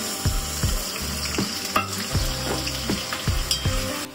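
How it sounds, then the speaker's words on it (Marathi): Onion fries in hot oil for pav bhaji with a steady sizzle, broken by regular spatula strokes that scrape and thump against the pan about every half second. The sound is close and there is no talking. "मी आता पहिला त्याच्यामध्ये कांदा टाकते."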